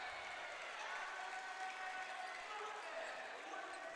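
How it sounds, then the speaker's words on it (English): A large crowd at Stanford's Maples Pavilion roars during an NCAA college volleyball match against BYU. The sound is a loud, sustained wall of cheering and applause with no break. "A big roar from that Maples crowd here."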